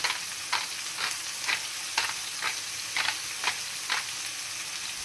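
Salted red pine mushrooms fry in a pan with a steady, bright sizzle, broken every half second or so by soft scraping bursts as they are stirred, close and with no talk.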